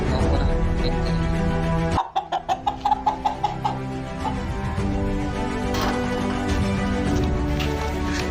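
Chickens and a rooster clucking close by on a farm, a burst of sharp repeated clucks followed by steady background fowl noise and chatter of other birds.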